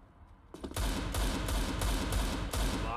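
Rapid Counter-Strike gunshots ring out in a steady string of sharp, loud reports, about eight in quick succession after a quieter start, with no talk over them.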